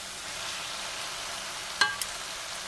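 Chilli noodles go into a hot pan with a steady, hissing sizzle, and two soft thuds land close together as they drop in.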